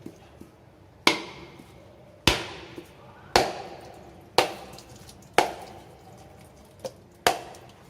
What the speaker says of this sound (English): Now you can use a hammer and hit it directly on that line.